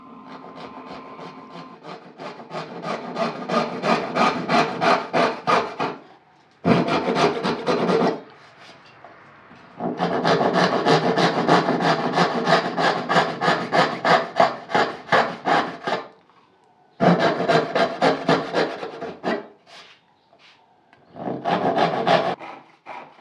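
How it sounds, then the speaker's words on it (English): Hand saw cuts tenons on wooden bench legs: rapid rhythmic rasping strokes in several long bursts separated by short pauses, close and clear with no talking. "Here I'm sawing out tenons that's going to be inserted into the base of the seat to make a nice and strong fit."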